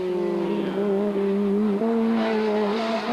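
A Fiat Punto rally car in the 2002 Omloop van Vlaanderen rolls along slowly, its engine holding a steady close droning hum, with one small shift in pitch partway through.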